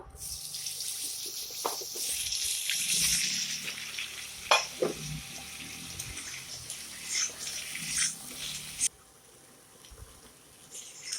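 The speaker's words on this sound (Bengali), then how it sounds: "আমি এরপর পেঁপেগুলো ভেজে নেব" Papaya pieces frying in oil give a loud, steady hiss with occasional stirring knocks, then the sizzle cuts out abruptly near the end, leaving quiet.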